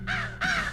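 Two loud, harsh crow caws come in quick succession, close and alone, each a raspy burst over a low background hum.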